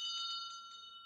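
A single bell rings clear and bright with a sustained metallic tone, slowly decaying, fairly quiet and alone.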